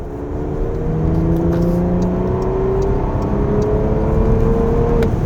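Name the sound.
Porsche Panamera Turbo S E-Hybrid accelerating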